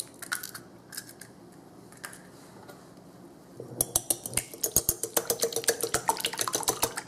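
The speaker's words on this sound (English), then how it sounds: "these 2 eggs, whip them around." Two eggs beaten with a utensil in a bowl while making shrimp fried rice: after a quiet start, a quick run of rhythmic clinking and tapping starts partway through and keeps a steady beat, close and fairly loud.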